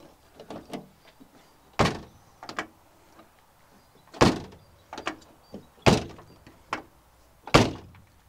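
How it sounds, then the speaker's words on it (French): A Fiat Panda 4x4 with a driver's side door that is hard to close, shut repeatedly: several sharp, loud thunks spaced a second or two apart, each with a faint rattle, among softer handling clicks. "quand tu vas fermer la porte, tu as vu, elle a du mal à fermer la porte côté chauffeur."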